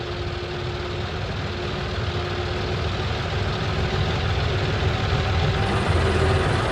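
Steady low rumble of a tractor engine descending a steep ghat road, a continuous heavy drone with no breaks, close and fairly loud throughout.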